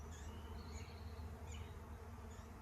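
Bees buzzing around a hive holding a captured swarm, a faint continuous hum with individual insects briefly droning nearer and fading away.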